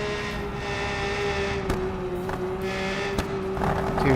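Engine of a car in the BeamNG driving game, a steady tonal drone throughout with sharp crackling pops from the exhaust breaking through, loud and close with no voices.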